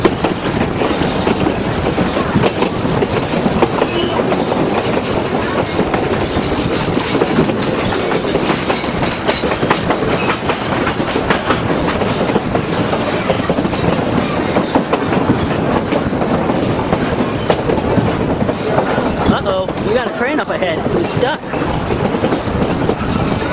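A narrow gauge train rolls steadily along the rails near the Wyatt Hermosa area, with continuous loud clickety-clack, wheel rumble and occasional squeals throughout, and voices heard faintly over the running train.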